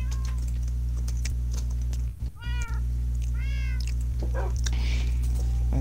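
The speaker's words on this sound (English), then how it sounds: "All I hear is those cats." Cats meowing in Minecraft, several short rising-and-falling meows in a quick cluster over a constant low electrical hum, fairly near and clear, without speech.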